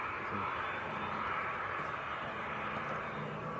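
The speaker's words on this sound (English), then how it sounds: "Here we go, Aer Lingus from Belfast." An Aer Lingus airliner arriving from Belfast at Leeds Bradford Airport, a steady broadband engine roar with a constant high whine, fairly distant and unbroken throughout.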